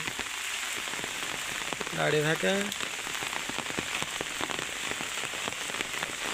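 Steady rain falls over a field where a flock of sheep stands bunched together, a dense hiss running throughout; a short vocal sound cuts in briefly near the start, and a voice speaks softly under the rain.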